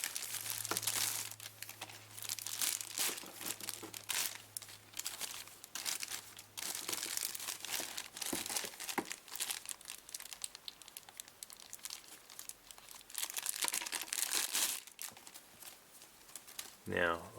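Packaging crinkles and rustles in irregular, close bursts while headphones from a Scarlett 2i2 Studio 3rd Gen bundle are unboxed, with sharper crackles and a few tearing sounds scattered throughout.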